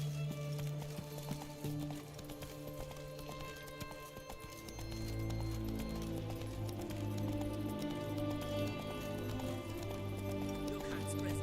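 Hooves of the horse Roach in the video game Witcher 3 clop along at a brisk, rhythmic gait, with a snort or whinny amid game music and ambient sound.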